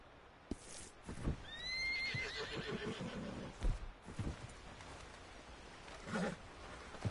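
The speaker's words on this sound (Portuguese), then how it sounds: "Calma, cavalo." A horse in the video game Red Dead Redemption 2 gives a clear, drawn-out whinny among scattered hoof clip-clops and soft thuds, fairly close and otherwise quiet.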